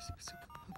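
A telephone number dialed on a keypad, a quick run of short tones in succession, faint and brief.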